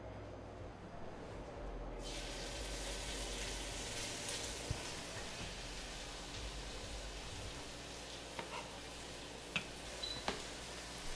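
Bacon hits a hot pan and starts frying: after a quiet start, a steady hiss of sizzling fills the rest of the clip, with a few small pops on top.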